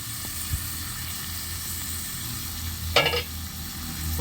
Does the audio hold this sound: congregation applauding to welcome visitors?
no